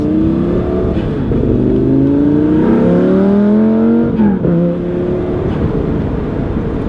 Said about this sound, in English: I'm rolling into the throttle super smoothly